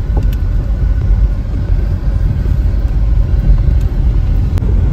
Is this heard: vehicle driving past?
yes